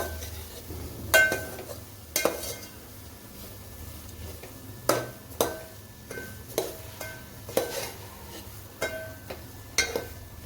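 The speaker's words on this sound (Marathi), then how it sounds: "सुकट घातल्यानंतर मसाल्यामध्ये सुकट छान असे परतून घ्यायचे" Dried fish being stir-fried in a masala in a pan, a steady soft sizzle under repeated sharp clinks and scrapes of a spoon against the metal, spaced irregularly about a second apart.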